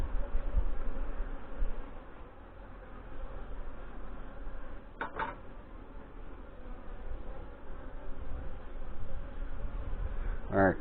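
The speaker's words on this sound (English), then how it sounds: "I got a bee up my pant leg." Honey bees hum around an open hive during a June inspection, a steady low buzz running throughout, with a louder bee passing close near the middle and again at the end.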